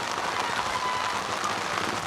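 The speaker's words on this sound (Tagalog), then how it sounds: "Walang tigil talaga ang ulan mga lods." Heavy rain pouring down on a city street near Carriedo Center, a dense steady roar of drops hitting pavement and surfaces, loud and continuous with no speech.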